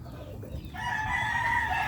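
Chickens cluck and a hen calls among her chicks in a rural yard, with a sustained crowing-like call rising over steady background noise.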